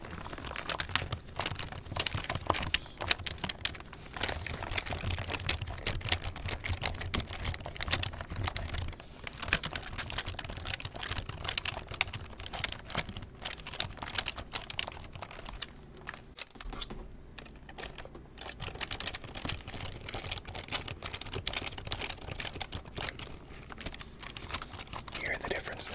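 Continuous typing on a black wireless computer keyboard, dense rapid clicking keystrokes close up for the whole stretch, with a brief pause near the middle and no talking.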